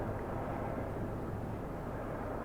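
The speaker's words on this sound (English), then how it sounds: "Just have a helicopter above the house." A steady low rumble of a helicopter droning above a house, constant and fairly distant, with no other sounds breaking through.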